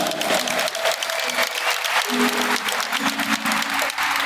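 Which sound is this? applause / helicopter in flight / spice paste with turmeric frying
applause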